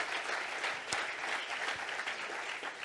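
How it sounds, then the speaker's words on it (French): Audience applause at a French talk on remote sensing, a continuous crowd of hands clapping at moderate loudness, slightly distant, with no voices over it. "applaudissez-le, hein, bien sûr"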